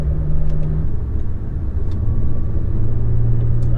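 A 2015 BMW 535xi is driven in normal mode, its engine giving a steady, fairly loud cabin rumble that rises slightly toward the end, with no one talking.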